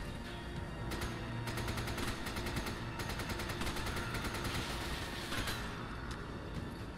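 Sustained automatic gunfire from a Resident Evil 5 gameplay session, loud, dense rapid bursts running nearly the whole time with a steady rattling rhythm and occasional sharper shots, no talk over it.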